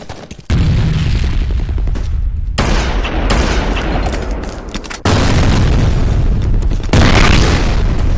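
A grenade explodes in the first-person shooter F.E.A.R. during combat, loud booming blasts followed by rumbling gunfire that cuts in and out in sharp bursts, with no speech.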